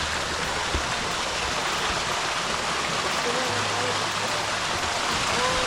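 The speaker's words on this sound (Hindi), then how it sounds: "ये पानी आ रहा है।" Spring water gushes steadily from a mountain source in Kabul, a dense, continuous rushing splash heard up close with a low hum beneath and no breaks.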